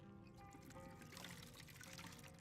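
Water pours steadily into a bottle in Skyrim, a continuous trickling stream lasting a couple of seconds, close and fairly quiet, with no talking.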